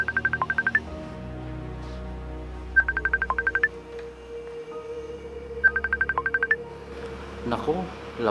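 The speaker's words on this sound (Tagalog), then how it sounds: "Nako, lagot na. Tumatawag si JR" A phone rings with an incoming call, giving three separate bursts of quick repeated electronic beeps a few seconds apart over a low background hum; voices can be heard around the rings.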